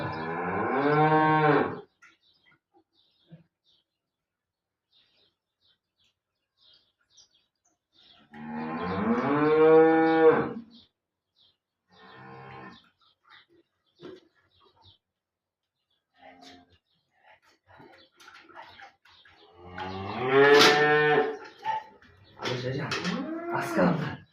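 A calf being weaned from a bottle to drinking milk from a bucket moos loudly several times in long, drawn-out bellows separated by quiet gaps, with faint talk in between.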